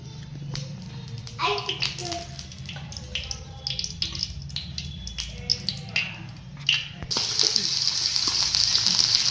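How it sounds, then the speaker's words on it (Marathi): Peanut chutney hits hot oil with a bubbling, splashing sizzle that grows into a steady loud hiss near the end, while someone talks throughout. "बघा ही सगळी चटणी आता तेलामध्ये आपण टाकलेली"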